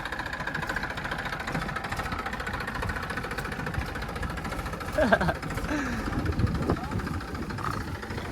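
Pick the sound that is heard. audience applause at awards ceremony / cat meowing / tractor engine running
tractor engine running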